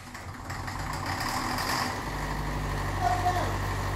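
Engine running with a plugged exhaust, a continuous low, rough idling drone that builds slightly and holds steady, with a voice speaking over it.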